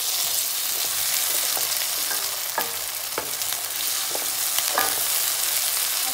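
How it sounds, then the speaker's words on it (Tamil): Tomatoes sautéing in a pan with ginger garlic paste for a chicken dish give a steady, close sizzle, with scattered clicks and scrapes from stirring throughout. "தக்காளி நல்லா வதங்குற அளவுக்கு நல்லா வதக்கி எடுத்துக்கலாம்"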